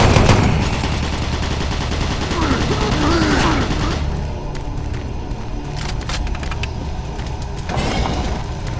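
Automated turret guns in Doom 3 fire loud, sustained bursts of rapid gunfire, with booming impacts and a brief pause before the shooting resumes.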